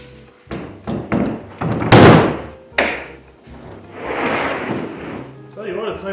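Banging and thudding from work on an old shop door: several loud, uneven knocks and thumps close by, with a scraping rustle between impacts.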